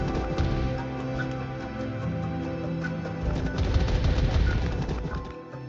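A stand's rapid barrage attack in the Minecraft JCraft mod, a dense flurry of fast punching hits that runs continuously and grows heavier near the end, with no talk.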